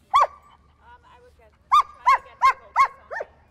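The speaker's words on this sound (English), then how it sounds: "It's not an aggressive bark, right? Yeah, she's more yelping." A German Shepherd on a leash lets out a short high yelp, then after a pause a quick run of five sharp, close yelps in a steady rhythm, with no talk over them.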